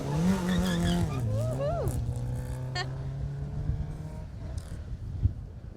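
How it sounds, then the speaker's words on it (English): Rally car, number 64, passing through a stage of the 2018 Jersey Rally: engine revs rise and fall in sweeping pitches with tyre squeal and skidding, then the car fades away, ending with a sharp knock. "Car 64 comes through."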